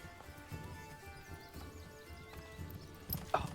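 Horse hooves clip-clop in a medieval city-building game, Manor Lords, steady and moderately near beneath soft background music, with a brief louder burst near the end.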